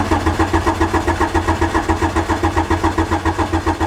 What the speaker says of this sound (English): It's decided it won't start again.